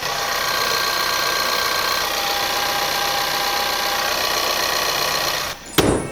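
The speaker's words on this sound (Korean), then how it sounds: "엔진음까지 들어봤습니다." A Ford Explorer SUV engine runs with the hood open, heard close up from the engine bay as a steady, even hum and whir that holds level, followed by a brief clunk near the end.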